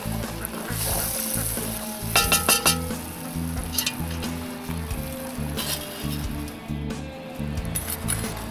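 Beef stew bubbling in a cast iron pot set over hot coals, a steady close simmering hiss with a cluster of metallic clinks from the pot and lid a couple of seconds in.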